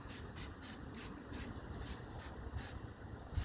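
High heat spray paint hissing from an aerosol can onto rust spots of a BBQ grill outdoors in a backyard: about eight short, sharp bursts in an irregular rhythm, close and clear, with no voices.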